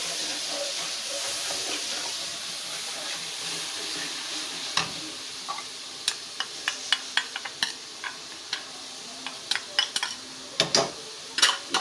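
Spice masala fries in a kadhai with a soft hiss and sizzle, followed by a run of sharp clicks and knocks from stirring that become more frequent toward the end.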